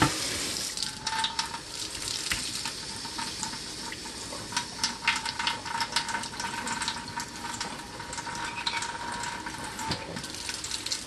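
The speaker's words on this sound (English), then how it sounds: "just blow or wash off the potato and around the roots" Kitchen sink sprayer washing sweet potato roots, a continuous hissing spray of water with splashing against the tuber, fairly loud and close, with no talking.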